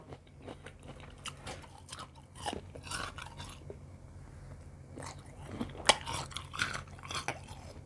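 Crunchy candied tamarind pods, large and long, being bitten and chewed close up, with repeated crisp crunches and wet chewing sounds at an uneven pace and no talking.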